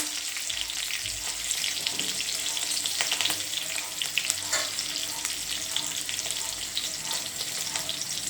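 Asafoetida dropped into hot oil already holding chillies and curry leaves sizzles with a steady, close frying hiss and a few stirring scrapes, no voices.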